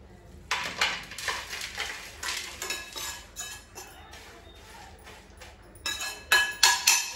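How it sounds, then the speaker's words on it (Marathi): Roasted chai masala spices are scraped out of a pan onto a plate with a metal spoon, producing loud clinks and scraping clatters in irregular bursts. "आता आपण हे सर्व साहित्य एका प्लेट मध्ये काढून घेऊया।"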